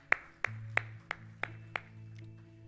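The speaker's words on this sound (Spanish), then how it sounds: "Denle un fuerte aplauso al Señor." Sharp, evenly spaced hand claps in a church service, about seven crisp strikes in a steady rhythm, ringing over a low sustained keyboard-like tone in an otherwise quiet room.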